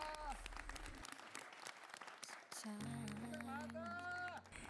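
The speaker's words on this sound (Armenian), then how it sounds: "Ծափահարեք մեկըդ մյուսին ձեր կատարած դժվար աշխատանքի համար մինչ այսօր։" A group of trainees applauds one another at a talent show debut finale: a steady wash of clapping under tonal musical sounds and brief voices.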